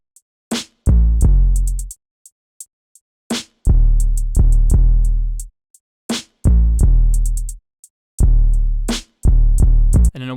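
A heavy, bouncing 808 bass pattern programmed in FL Studio for a soul-sample hip hop beat: booming sustained low notes with sliding pitch, each landing with sharp percussive hits in a repeating two-bar groove, loud and with no talking.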